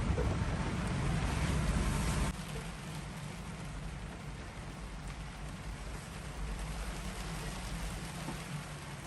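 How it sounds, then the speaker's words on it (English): Rain pours down at a boatyard during a sailboat haul-out, a broad steady hiss that is heavier for the first couple of seconds, then settles into a softer, even patter. "The rain is coming. the rain has come."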